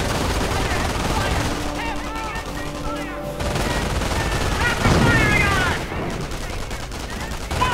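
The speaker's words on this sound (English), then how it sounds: "They can instantly set up those machine guns." Machine gun fire in the World War II strategy game Company of Heroes, rapid bursts of shots repeating through the stretch, fairly loud and mixed with game voices and someone talking.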